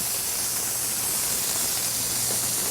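Medium onion sizzling in about a quarter cup of extra virgin olive oil in a hot pan, a steady, bright, continuous hiss and crackle throughout, close and fairly loud with no talk.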